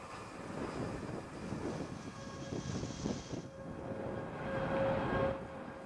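Broadband rumbling roar of a ULA Vulcan rocket's engines climbing during the USSF-106 launch for the United States Space Force, steady and continuous with a slow swell toward the end, heard from a distance.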